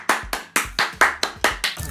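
Hands clap sharply about eight times in an even rhythm, close and clear, each clap followed by a brief low thump, with no voices.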